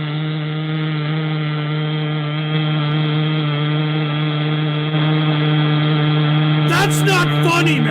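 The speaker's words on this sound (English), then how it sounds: "Fluttershy, there's something wrong with my lawnmower. It makes a really weird sound when I turn it on" Lawnmower with a fault, running with a loud steady droning hum and strong tonal buzz throughout, joined near the end by a burst of rattling, clattering noise.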